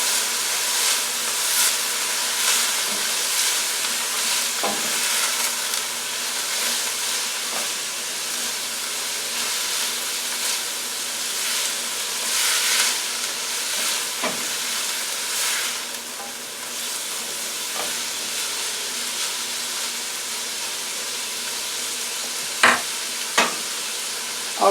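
Seasoned vegetables with black pepper, granulated onion and garlic paste hiss and sizzle in a hot pan while being stirred, a steady close frying noise broken by occasional utensil scrapes and clicks, no talking.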